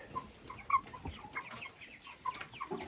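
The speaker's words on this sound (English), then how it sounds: "Now, they are decent-sized chickens." Decent-sized chickens, comparable to laying hens, give soft, scattered clucks close by at low volume with quiet gaps between the calls.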